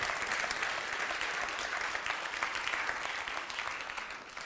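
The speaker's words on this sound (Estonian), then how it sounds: "Teeme aplausi Tedile" Steady, fairly distant audience clapping at an architecture awards ceremony held in a theatre in Estonia, a continuous wash of hands that slowly thins toward the end.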